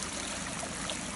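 A brook runs through a constructed streambed near an old stone structure, giving a steady, dense rushing of water that is close and continuous, with no voices.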